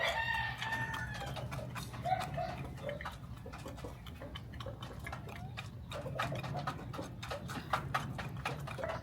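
Chickens cluck and a rooster crows at a Sunday market, with a busy, steady background of clattering and bustle throughout; the bird calls come and go in the mix rather than standing alone.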